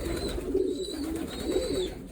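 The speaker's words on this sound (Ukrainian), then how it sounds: "Це по моїх чорних голубах." Black racing pigeons coo softly in a loft, a low rolling murmur repeating in short close phrases with no voices present.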